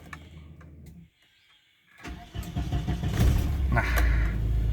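A 1994 Volvo 960 GL engine is started: a short quiet pause, then the starter cranks briefly and the engine catches into a rising, steady idle that grows louder and stays close.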